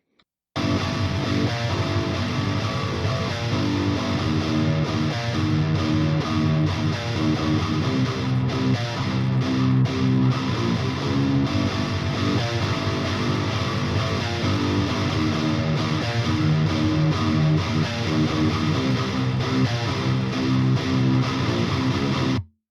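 A Telecaster and an LTD electric guitar blended together in a mix, playing a continuous distorted riff with sharp pick attack, loud and close throughout.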